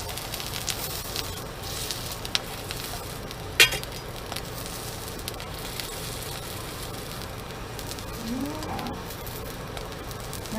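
A homemade seitan veggie burger frying in a pan, giving a continuous close sizzle and crackle with occasional sharp pops and a light scrape, and no talking.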